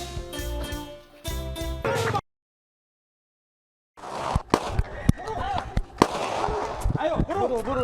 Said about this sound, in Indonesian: Tim Macan Resmob Satreskrim Polres Bangkalan melepaskan tembakan peringatan saat mengejar pelaku curanmor yang berusaha kabur